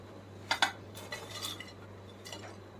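Crispy onion bhaji being lifted out onto a plate, a couple of sharp metallic clinks followed by softer scrapes and taps, quiet and close with no talking.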